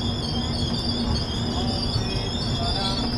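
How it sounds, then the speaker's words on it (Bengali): The Kolkata Jammu Tawi Express departs Lucknow Charbagh station with a steady rumble and high wheel squeal, loud and close, continuous throughout without clear speech. "নির্দিষ্ট সময়ে ট্রেন ছেড়ে বেরিয়ে যাচ্ছে লখনৌ ছাড়বাগ রেলওয়ে স্টেশন।"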